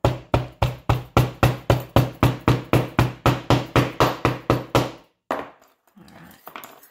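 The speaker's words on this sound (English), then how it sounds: "just put a big old handful in behind that and compress it with a hammer." A hammer packs sand into a casting flask for sand casting a signet ring, about twenty quick, evenly spaced, loud knocking blows, then a pause, one more strike and a softer scrape, close up with no talk.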